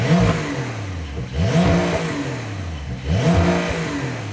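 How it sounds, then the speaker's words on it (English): Porsche 992-generation 911 engine revving repeatedly into its soft rev limiter, three loud rising blips bouncing off the cutoff in a steady rhythm, close and alone with no talk. "just for a demo, this is what it's like with the soft limiter"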